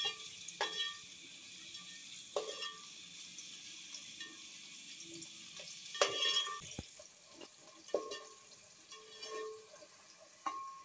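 Onions fry in oil in a pan while a spoon stirs them, a soft continuous sizzle broken by irregular scraping and clinking strokes, close and quiet with no talking.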